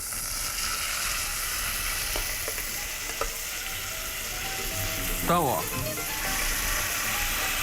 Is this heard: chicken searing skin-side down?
yes